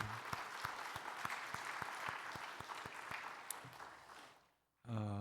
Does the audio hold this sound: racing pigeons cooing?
no